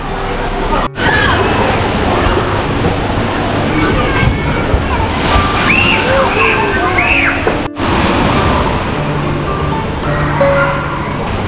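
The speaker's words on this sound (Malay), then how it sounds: "Ada water splash" Water splashing and sloshing in a hotel's lakeside pool at a DoubleTree by Hilton, a loud, continuous rush of churning water with faint voices and brief higher calls scattered through it.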